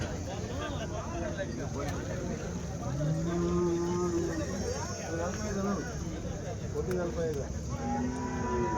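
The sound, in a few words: cow mooing at cattle market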